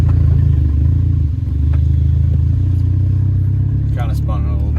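A Volkswagen MK4 GTI with a newly installed camshaft sensor drives slowly out of a yard, its engine droning steadily and loudly close by, with a brief wobble where a tire spins; someone talks near the end.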